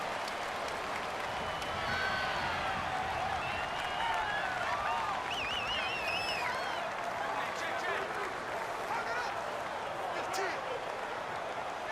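A continuous stadium crowd roar from Madden NFL 19, in a Steelers vs Jaguars game, with the home crowd loud and unbroken throughout and occasional whistles and cheers rising above it.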